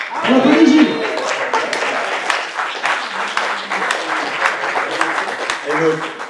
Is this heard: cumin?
no